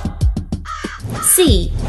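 Crow cawing in a children's English lesson on bird names, a quick run of sharp rhythmic caws followed by a longer harsh call, close and loud with a voice speaking alongside.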